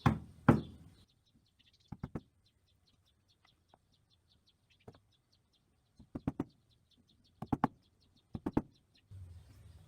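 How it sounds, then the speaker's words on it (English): A chisel works into a Fender Stratocaster guitar body in short, sharp taps and knocks, spaced in small clusters with quiet gaps between, close and fairly crisp, with faint chirps in the background. "just working my way around the box with a chisel to start."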